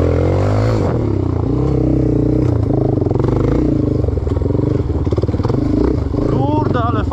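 Raptor 250 quad ATV engine riding off-road, a steady low motor drone with shifting pitch and some clatter throughout, close and loud, with people talking over it.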